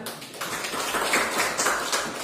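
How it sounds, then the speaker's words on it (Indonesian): A school class claps hands together in a classroom during a physics lesson, a short dense burst of fairly close applause. "Tepuk tangan."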